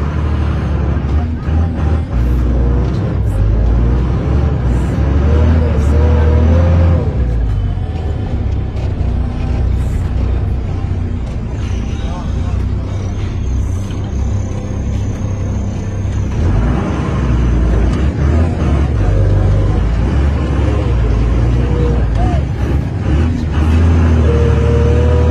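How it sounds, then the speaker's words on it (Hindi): A truck turns and reverses on a roadside, its engine rumbling loud and steady throughout with passing road noise, while someone talks over it. "अभी हम यहाँ पे अपनी गाड़ी जो है वो मोड़ेंगे, बैक करेंगे"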